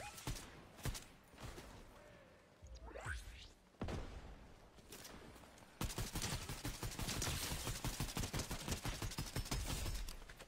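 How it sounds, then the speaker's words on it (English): Gunfire in the video game Diablo IV: irregular bursts of loud shots and impacts, dense and continuous in the second half, with faint talk early on. "We're getting shot at from the north from the side."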